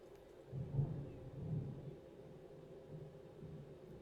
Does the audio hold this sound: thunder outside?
yes